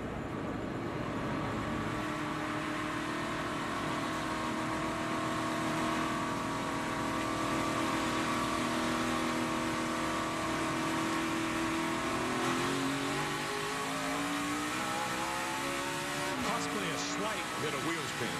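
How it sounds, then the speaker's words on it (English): A NASCAR Sprint Cup race car roars off the start at the 2016 Sprint Showdown, its engine revving loud and climbing steadily through the gears amid a dense field of engine noise, with a commentator talking over it. "Let's listen to Chase Elliott as he takes off."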